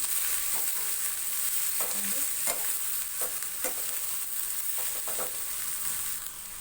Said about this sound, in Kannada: ಮಿಕ್ಸ್ ಮಾಡ್ಕೊತಾ ಇದ್ದೀನಿ ಹುರುಳಿ ಕಾಳನ್ನ